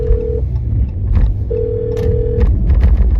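A telephone rings over a low rumbling background: two steady electronic ring tones, one brief near the start and a longer one midway, with scattered clicks between them and no talking.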